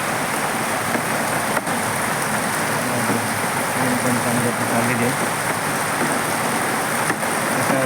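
A dense, steady hiss of rain fills the scene throughout, loud and close, with a voice speaking briefly underneath.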